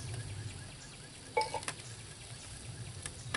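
Rabbit simmers in barbecue sauce in a pan, giving a low, quiet, steady sizzle. A few sharp metallic clinks of utensil against pan cut through it, with no talking.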